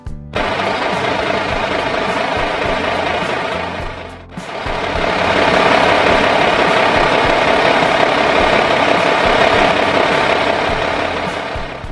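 A Swaraj 774 FA 4x4 tractor works in mud with a loud, steady diesel clatter that drops off briefly near the start and then resumes, running close and unbroken to the end.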